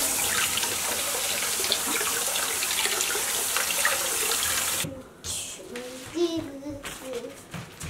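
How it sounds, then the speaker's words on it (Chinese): Tap water streams steadily over hawthorn fruit being rinsed in a kitchen for candied haws, then the flow cuts off and a few soft splashes and faint voices follow. "然后用清水将它冲掉"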